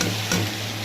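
Onion, tomato and coriander frying in a pan for a quick kurma, a close, steady sizzle with a brief stirring scrape partway through.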